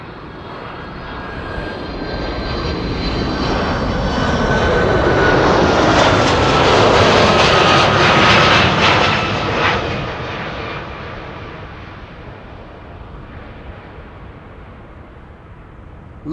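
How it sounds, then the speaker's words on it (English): A KLM Boeing 737-900 arriving at Amsterdam Schiphol swells into a loud jet roar that peaks mid-way as it passes close by, then fades into a lingering rumble. "a 737-900 arriving from Milan from KLM"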